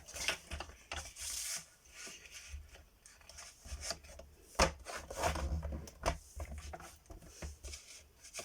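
Card paper is cut to size for a handmade greeting card with soft, irregular scraping and cutting strokes and light rustling, faint and close, with no voices.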